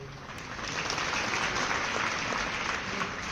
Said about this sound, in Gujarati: તમે તાળીઓ પાડો છો